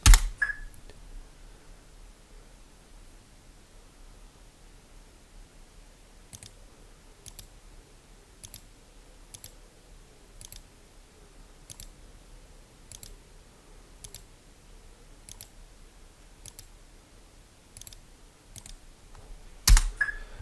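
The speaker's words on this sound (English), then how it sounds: "right clicking with curved points, left clicking for a solid straight point." A computer mouse clicks in embroidery digitizing software while points are placed: sharp, isolated clicks spaced about a second apart over a quiet room, with a louder click at each end.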